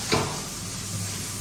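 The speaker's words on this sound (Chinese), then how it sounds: "峰哥这小锅颠的还行啊。" A small wok is tossed and stir-fried over high heat, with a steady close sizzle and short scraping bursts at the start and end.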